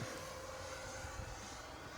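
Durafly Vampire 70mm EDF model jet making a low inverted pass at about three-quarter throttle, a steady continuous ducted-fan whoosh and whine that holds at even loudness throughout, with no talk over it.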